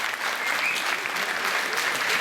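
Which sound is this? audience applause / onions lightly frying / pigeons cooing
audience applause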